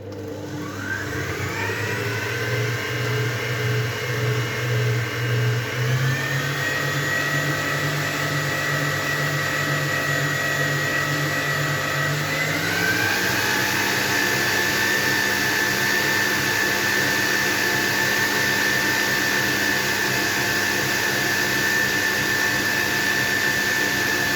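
Electric hand mixer whisking eggs for a plain sponge cake batter, a loud steady motor whir that shifts pitch upward as the speed changes, running alone without speech.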